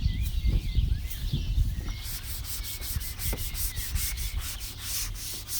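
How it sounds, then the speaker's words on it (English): A scrub pad rubs back and forth across an outdoor table being restored, a steady close scraping with bird chirps in the background and no talk. "just give this a scrub"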